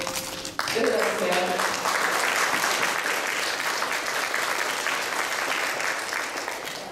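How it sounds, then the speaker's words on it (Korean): A crowd at an anniversary ceremony applauds to welcome a guest. A brief voice comes first, then full, sustained clapping from many hands continues steadily for several seconds. "많은 박수로 맞춰주세요"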